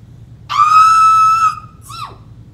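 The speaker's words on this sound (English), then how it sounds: "when you scream like that before you sneeze, it's really distracting" A person lets out a loud, sustained, high-pitched scream lasting about a second, followed by a short sharp sneeze-like burst, alone in a quiet indoor room.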